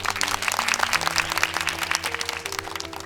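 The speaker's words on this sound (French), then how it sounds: "Applaudissez-le." Guests at a funeral ceremony applaud Nourou, a rapid patter of clapping throughout with a sustained musical tone underneath.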